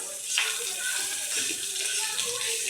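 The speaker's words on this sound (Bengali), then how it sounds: "মাছে জল দিয়ে দিলাম ঝোলে" Water is poured into fish frying in oil in a pressure cooker for curry, a steady splashing and hissing pour heard close up, with faint talk in the background.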